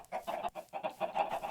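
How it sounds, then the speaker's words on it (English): Minecraft chickens clucking in repeated short bursts with brief gaps, moderately loud and close, no talking over them. "Look at all these chickens."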